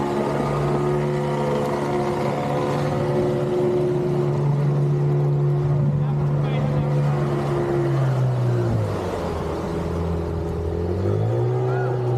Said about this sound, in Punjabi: ਬੋਟ ਪਹੁੰਚ ਗਈ ਹੈ ਹੁਣ